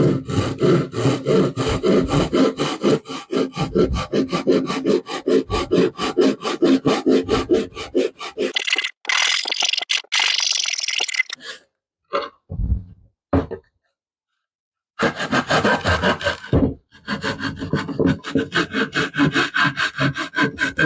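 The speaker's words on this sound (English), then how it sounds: "Take our saw." Hand saw cutting through wood in a rapid back-and-forth rasp, continuous strokes for about eight seconds, then short bursts and pauses before sawing resumes, close and clear with no talk.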